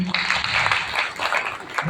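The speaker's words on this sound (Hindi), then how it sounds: "जरा ताली तो बजा दो थोड़ी" Brief burst of audience clapping at a Kshatriya Mahasabha youth gathering in Moradabad, scattered hands rising quickly under a crowd murmur, short and moderately loud with voices mixed in.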